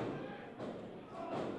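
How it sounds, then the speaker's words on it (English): A stomach breaker lands in a 2CW pro wrestling ring: a dull, heavy thud of bodies hitting the mat, with crowd and arena noise around it and the impact not sharply separated from the din. "Stomach breaker on Eddie Edwards."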